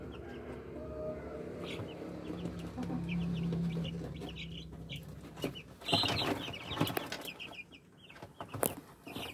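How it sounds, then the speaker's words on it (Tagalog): Three-week-old Rhode Island crossbreed chicks cheep and cluck nearby in a farm setting, with scattered calls and a busier flurry of chirping and rustling toward the end, and no talking. "Yan yung mga sisiw natin mga ka-happy farming."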